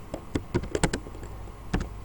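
A short run of keyboard keystrokes, a handful of separate taps at an uneven pace, close and fairly quiet.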